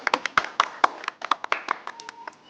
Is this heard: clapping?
yes